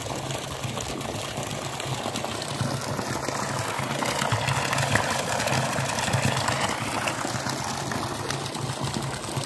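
Water pours steadily into a freshly filling fish tank, a continuous broadband rushing and gurgling with a faint pump-like hum underneath, no voices over it.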